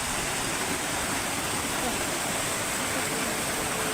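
Water pours steadily from a gaumukhi cow-mouth spout near the Heran river, a continuous close splashing rush that fills the whole clip with no talk over it.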